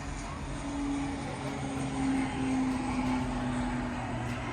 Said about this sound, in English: Planes coming in.